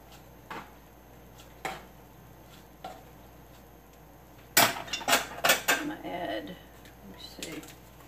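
A utensil taps and clanks against a pot of vegan spaghetti sauce: a few sparse knocks, then a denser run of scrapes and clatters, fairly close, with a person talking around it.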